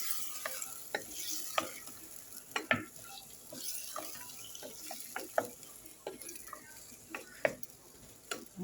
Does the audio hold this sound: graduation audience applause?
no